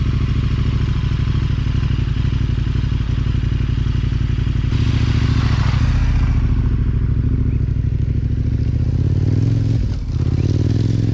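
A motorcycle on Mitas E07 tyres brakes hard from 60 km/h while the rider stands, ABS off, on a very loose road, giving a loud, continuous roar of engine and wind with some scraping.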